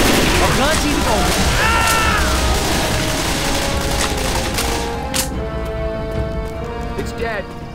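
Rapid gunfire in Left 4 Dead 2, dense overlapping shots and bursts loud throughout, with people talking over the shooting and the barrage thinning toward the end.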